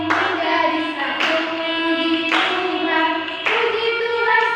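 A church congregation claps in steady, evenly spaced beats along with a worship song, the loud claps ringing over continuous singing and music.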